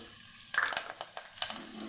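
A sudden burst of sizzling as curry leaves and chilli pieces drop into hot oil with asafoetida, followed by crackling pops and a faint scrape, close up.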